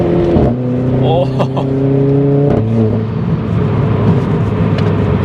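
A 240bhp Renault Clio RS engine is revved hard close up, with rising and falling pitch sweeps. A single short exclamation from a person is heard over the engine noise.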